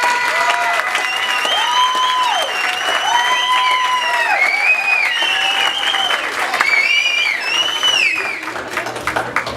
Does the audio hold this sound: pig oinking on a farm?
no